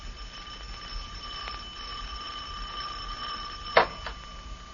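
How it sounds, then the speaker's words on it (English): A doorbell in an old radio drama gives a single short, bright ring near the end, heard alone over a steady background hum. "Don't you ever answer the doorbell?"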